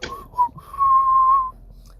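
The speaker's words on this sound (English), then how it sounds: "whistle." A person whistles a short, clear, sustained note after two brief chirps, close and alone in a quiet room.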